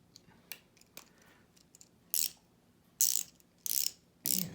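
Victorinox Sport Ratchet screwdriver ratcheting, giving four short bursts of crisp metallic clicking close up, separated by quiet pauses and preceded by a few faint ticks.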